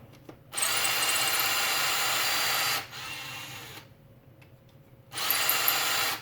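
A power drill bores into resin with a drill bit, whining steadily in two loud bursts separated by a quieter lull, close and with no talk.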